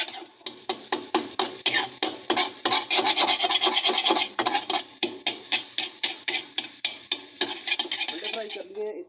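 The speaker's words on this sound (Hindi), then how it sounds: "अंडे फ्राई करके हमने अच्छे तरीके से इन्हें तोड़ लेना है" Frying eggs in a hot pan are chopped and broken up with a spatula, giving a quick, regular run of loud scraping strokes against the pan over a faint sizzle.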